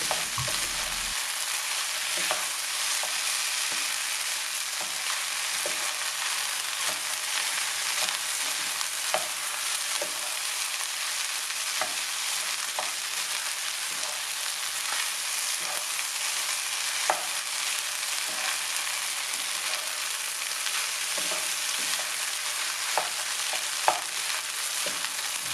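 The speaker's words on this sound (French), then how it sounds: "On verse les œufs brouillés. Ensuite, on les cuit et puis les mélanger régulièrement pendant 1 minute." Scrambled eggs sizzle and fry in a pan, with steady bright crackle and regular scraping stirs throughout, close and continuous with no talk.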